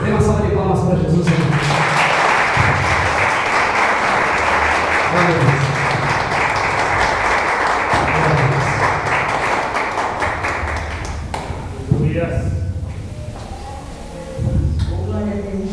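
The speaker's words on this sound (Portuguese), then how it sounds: "Dê uma salva de palmas para Jesus." A church congregation applauds, a full, sustained round of clapping lasting most of the stretch while someone speaks over it, fading near the end as his voice continues.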